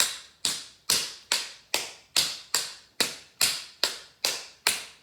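Tap shoes rap out a quick, even run of brush, spank and step sounds on a hard floor in a tap dance class, a dozen sharp metallic clicks spaced evenly and close, with no voices.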